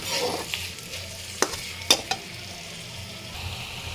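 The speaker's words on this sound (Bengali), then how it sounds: "এর ভিতরে দিয়ে দেব পেঁয়াজ কুচি এটাকে আমি ভালোভাবে ভেজে নেব কিছুক্ষণ" Chopped onion frying in hot oil in a wok, a steady close sizzle with a few sharp clinks of a utensil against the pan, no voices.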